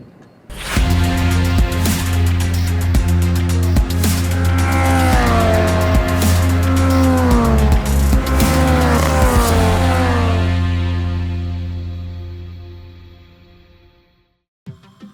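Caterham 420R race cars on the Pau-Arnos circuit, one loud engine roaring close by with sustained revving and gear changes, then fading steadily into the distance over several seconds, followed by a brief click at the end.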